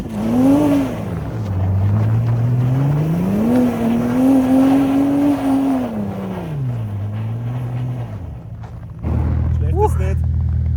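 A Nissan GTR, a JDM car on Finnish streets, revs hard, its engine note climbing and falling loudly in long sweeps with tire noise, then settling into a steady drone.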